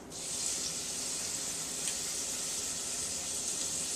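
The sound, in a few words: garlic, onions and spices frying with bacon in olive oil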